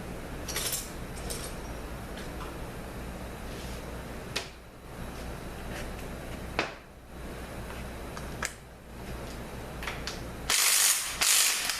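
Ratchet wrench clicking steadily as 13mm bolts are removed from the back section of a ZF5HP24 transmission, close and continuous with short pauses and metallic clunks, no talking.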